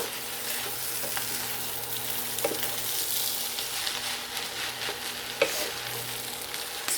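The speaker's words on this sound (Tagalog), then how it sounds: "siguraduhin nyo lang na haluin yung maigi kapag nilagay nyo na. Para maiwasan na masunog yung rice." Korean fried rice with egg and butter sizzles in a pan while being stirred, a steady soft frying hiss with occasional scraping clicks of the utensil, close and fairly quiet.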